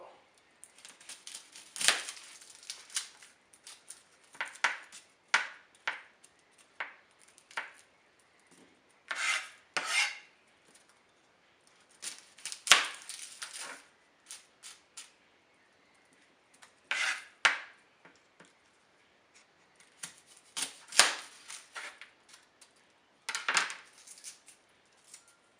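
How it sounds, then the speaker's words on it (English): A knife cuts the tops off garlic bulbs on a board, heard as scattered rasping, scraping strokes with pauses between, fairly close and quiet. "chop a little bit off the top. Just like that, just so the top of the garlic is exposed"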